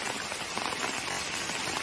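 Heavy monsoon rain falls on a Konkan forest, a dense, unbroken hiss of drops on leaves and ground, loud and close with no letup.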